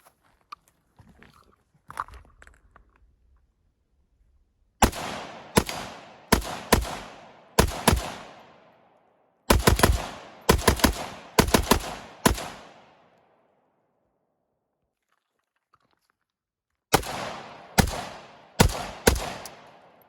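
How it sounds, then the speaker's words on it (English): Rifle shots fired outdoors on the Olympic Peninsula in Washington, loud sharp cracks in three bursts of several shots each with brief gaps, each crack trailing a short echo, no talking. "I haven't shot a rifle in a long time"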